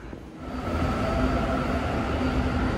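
A Korail Line 4 subway train rolls into a station with a rising, steady rumble and a faint tonal whine, heard from the platform without any talk.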